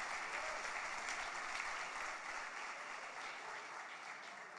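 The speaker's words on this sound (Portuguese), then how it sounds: "aplauda o Senhor" A church congregation applauding during an evening service, a dense, even wash of many hands clapping, sustained and moderately distant throughout.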